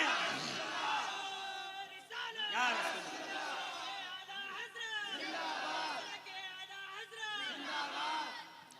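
A large gathering at a religious sermon shouts back in unison to a Takbir call, several loud rising chants in waves with a leader's voice between them, a dense crowd roar filling the space.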